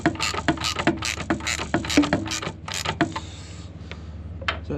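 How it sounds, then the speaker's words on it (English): Ratcheting clicks from tightening an alternator belt tensioner on a show truck, a steady run of sharp mechanical ticks and ratchet pawl snaps close by, thinning out toward the end with a few scattered clicks. "As I tighten, the alternator slowly moves up, and that belt gets tighter and tighter."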